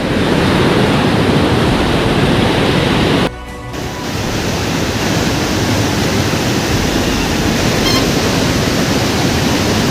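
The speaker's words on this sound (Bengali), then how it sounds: "জলের আওয়াজটা তোমরা শুনতে পাচ্ছ" Floodwater rushes out through the Durgapur Barrage gates on the Damodar in a loud, continuous roar, joined by wind buffeting the microphone and a brief dip before the torrent swells back.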